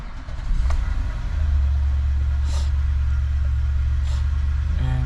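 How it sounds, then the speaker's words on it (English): An Infiniti QX80 engine cranks and fires, then settles into a steady, loud, close idle rumble with a deep low drone that continues unbroken. "And let's start her up."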